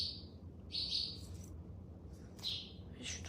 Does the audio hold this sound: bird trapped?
yes